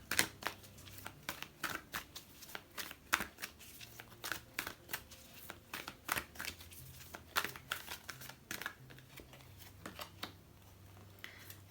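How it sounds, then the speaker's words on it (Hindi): Tarot cards shuffled and handled as one card is drawn: a dense run of crisp, close card flicks and slides with soft papery rustles over a quiet room hum, no talk. "हम एक कार्ड यहाँ से और ले लेते हैं।"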